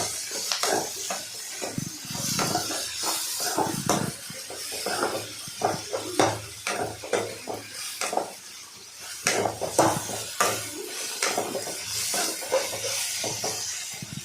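Bitter gourd pieces sauté in oil with a soft, intermittent sizzle, punctuated by repeated scrapes and knocks of a spoon stirring against the pan, close by and fairly quiet.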